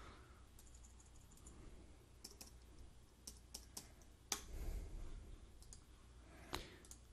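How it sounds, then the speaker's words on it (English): Sparse, faint clicks from a computer keyboard as a scale value is typed, a few separate keystrokes spaced irregularly against a quiet background, with one slightly louder thump midway. "you can just simply go up and type in a scale"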